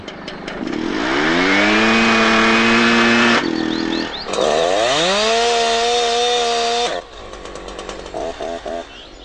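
A Husqvarna chainsaw runs close by, its engine revving up to a loud, high whine, dropping briefly, revving again, then falling back to a sputtering idle.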